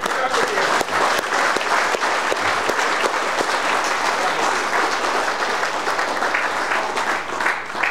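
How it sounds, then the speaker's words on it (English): Church congregation clapping during a prophet's service, a dense, sustained round of applause running for roughly eight seconds, with scattered voices mixed in. "Let me clap."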